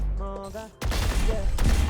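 Rapid gunfire at bots during aim training in the video game Valorant, a dense burst of shots that sets in abruptly after a short musical tone and keeps going to the end.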